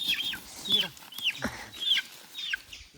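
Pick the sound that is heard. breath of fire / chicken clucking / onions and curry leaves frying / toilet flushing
chicken clucking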